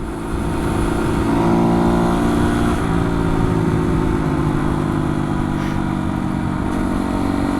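Beta 125 RR motorcycle engine running warm on an open road, a steady loud drone with harmonic whine that rises slightly and holds, no talking over it.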